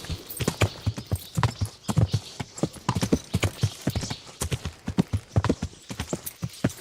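Rhythmic clip-clop of horse hooves trotting at a steady pace in the video game Kingdom Come, crisp and close, with a faint background hum.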